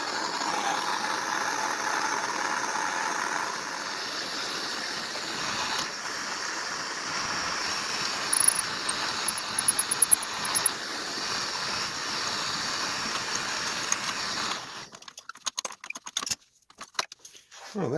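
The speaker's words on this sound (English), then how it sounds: "I'm going to start off with applying heat. This is just a propane torch." Propane torch applying heat to a part of a water-damaged 16-light chandelier: a steady, close, roaring hiss that runs for about fifteen seconds, then cuts off, followed by scattered clinks and handling noises.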